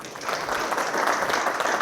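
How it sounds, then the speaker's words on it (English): A short round of applause from a leadership seminar audience, steady and fairly soft, many hands clapping together at some distance with no speech over it. "Let's give them a round of applause."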